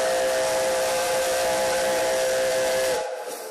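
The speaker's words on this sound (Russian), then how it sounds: "Поезд Деда Мороза прибывает в Уфу точно по расписанию" A steam train whistle sounds loud and sustained as a Father Frost train arrives at a railway station in Ufa, with hissing steam beneath; the blast cuts off near the end, leaving quieter hiss.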